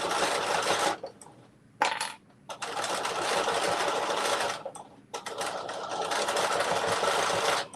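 A sewing machine stitches through the thick layers of a zipper pouch in loud, rapid bursts, with two short pauses between runs and no voices.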